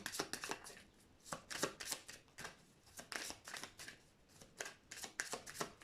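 Oracle cards are shuffled by hand in a rapid series of crisp riffling bursts, each a short flutter, repeating irregularly at close range and fairly quiet, with no talking.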